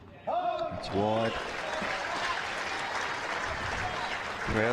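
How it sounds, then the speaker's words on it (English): A crowd at a women's tennis match at the Hobart International breaks into steady applause after a point, sustained clapping under a commentator's voice, with other voices heard at the start. "Crowd responding as well."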